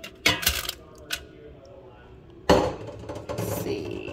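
Shrimp tumble into a foil-lined air fryer basket with a crinkly foil rustle and soft clatter, in two short bursts separated by a quiet gap.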